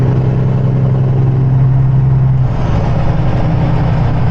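A Peterbilt 379 truck idling with a newly installed 4 State Trucks exhaust, a loud, steady, close diesel rumble with a deep drone that shifts slightly partway through.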